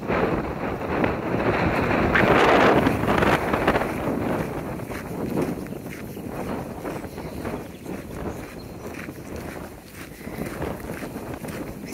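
Steady wind buffets the microphone on a sunny, chilly coastal trail hike, loud and continuous throughout, with faint footstep-like rustles underneath.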